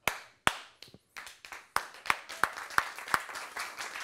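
A small audience claps hands in a series of sharp bursts at a physics show, with quick scattered claps settling into a roughly steady rhythm of louder single claps, close and clear with no talk over them.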